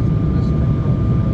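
Cabin of a J-AIR jet airliner descending on a flight from Sapporo New Chitose to Akita, a loud, steady low engine-and-airflow drone that fills the cabin evenly throughout.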